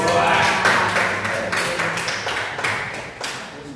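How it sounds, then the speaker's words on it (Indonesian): Applause for Bu Rita at a teachers' mentoring session: a burst of clapping from a small group, strongest at the start and then tapering off, with rapid overlapping claps filling the room. "Tepuk tangan untuk Bu Rita"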